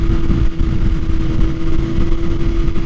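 A 2021 BMW S1000RR motorcycle with an Akrapovic Evolution exhaust runs in a steady, close, throaty drone. A strong constant tone sits under rumbling, slightly fluttering exhaust noise.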